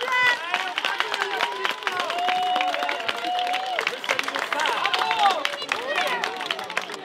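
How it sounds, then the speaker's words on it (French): Audience applause at a French children's show, steady dense clapping with crowd babble and voices over it, loud and sustained throughout. "On peut l'applaudir très très fort"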